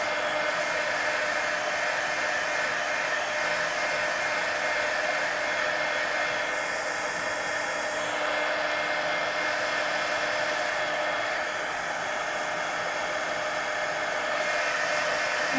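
Hair dryer blowing on a page of an adult coloring book, a loud steady close whoosh and motor hum that runs unbroken the whole time, with no talk.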